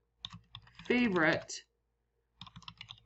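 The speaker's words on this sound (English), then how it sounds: "I'm having a hard time typing." Quick bursts of typing on a computer keyboard, clicking key taps before and after a short spoken word, close and clear.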